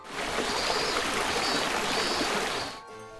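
Mountain river rushing down a stepped channel along a forest road, a steady, close, loud wash of flowing and splashing water that cuts off abruptly near the end.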